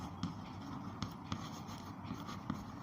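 A pen scratches out a maths equation on paper, faint and close, with soft strokes broken by several sharper taps.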